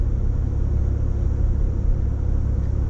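A 4x4 cruising in fourth gear along a Bribie Island beach access track, its steady low engine and road rumble droning continuously at close range with no voices.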